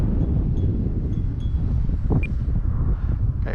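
Steady broadband wind buffets the microphone throughout, a loud continuous rumble with slight gusting, as a Timber Turbo RC airplane glides in to land with the throttle off outdoors.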